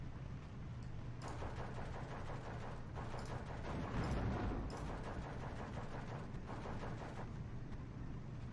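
Friendly-fire gunfire in the WWII strategy game Steel Division 2: a faint, continuous battle soundscape of rattling small-arms bursts and distant thuds, with a low hum underneath.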